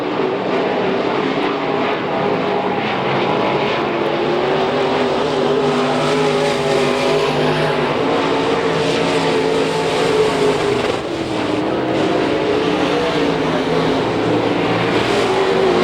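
IMCA stock cars racing around a dirt track during a heat, a continuous loud roar of several engines droning together at a distance.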